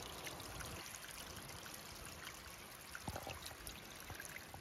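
Water trickles softly and steadily through small hand-dug channels in a garden, a faint continuous babble with light splashes.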